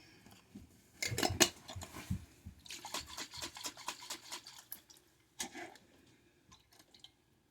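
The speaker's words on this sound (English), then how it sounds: "I'm going to pour that water into this, so I can make sure to get all that stuff out of there" Water pours into a pot while homemade spaghetti is being cooked, coming as a run of splashing and trickling bursts, close and fairly quiet, with soft drips trailing off at the end.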